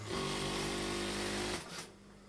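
A sewing machine stitches along the edge of embroidery on a Kasumedangan garment, running loud and steady with a continuous motor whir before slowing to a stop near the end.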